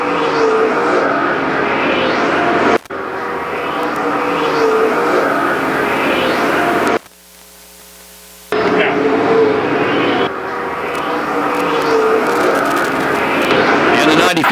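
Super stock race cars roaring around the Perris Auto Speedway oval during a heat race, loud engine drone with passing surges, cut by brief gaps of static, while an announcer talks over it.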